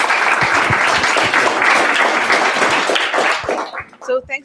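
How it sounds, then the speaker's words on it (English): Audience applause for presenters at a data-visualization lunch talk, a dense burst of clapping from many hands that fades after about three and a half seconds as a voice begins speaking. "So let's give them a round of applause here to get them started."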